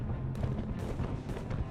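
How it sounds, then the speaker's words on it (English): Napoleonic Wars cannon fire plays as a documentary sound effect, a dense rumble of booms and thuds that rolls on steadily and sounds distant. "before it was halted by cannon fire from the Santon Hill"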